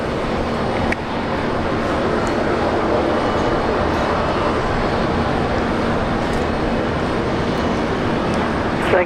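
A Boeing 737 with the short-field performance package and 24k engines at Brisbane Airport gives off a loud, broad, steady roar with no breaks, heard without anyone speaking.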